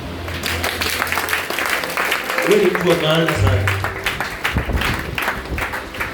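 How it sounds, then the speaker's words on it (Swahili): An audience at a Swahili church sermon claps for themselves, steady applause running under a preacher's loud voice throughout. "Wewe uliyefika, jipigie makofi."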